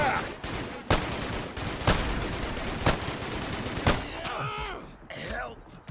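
Pistol gunfire in the game Fallout: London: several loud, sharp shots spaced about a second apart over a dense background din, followed by shouted voices and clattering near the end.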